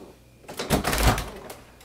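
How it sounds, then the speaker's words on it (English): Knocking on a door, a short cluster of loud, close raps lasting about a second within a quiet room. "Who's fucking knocking a goddamn door?"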